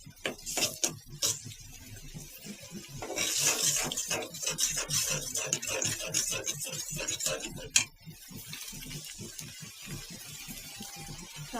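Onions frying with garlic paste in a pan, stirred with a utensil that scrapes and clinks against the metal in a quick, steady rhythm, with one sharp knock near the end.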